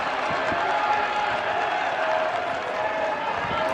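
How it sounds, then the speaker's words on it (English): Crowd cheering and clapping at a professional ultimate frisbee game between the Minnesota Wind Chill and Madison Radicals, a steady, dense roar of applause and cheers filling the whole stretch at even loudness. "You can hear that crowd really getting into it now"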